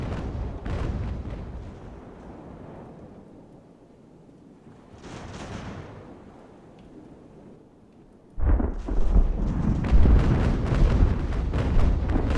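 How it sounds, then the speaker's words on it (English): Cannons aboard sailing warships fire in the naval battle game Ultimate Admiral: Age of Sail. Scattered rumbling booms give way to a loud, dense, sustained barrage near the end, with no talking. "You can imagine how loud these kind of cannons would be."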